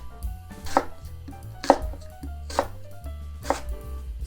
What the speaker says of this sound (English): Now I'm going to cut this into big chunks.